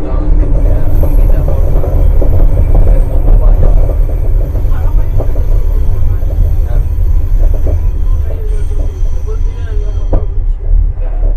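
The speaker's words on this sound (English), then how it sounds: "we're pulling in Nanaimo Station right now" An Expo Line SkyTrain pulls into Nanaimo Station, with a loud, steady rumble of wheels on rail and faint squealing heard from inside the car, and people talking softly under the noise.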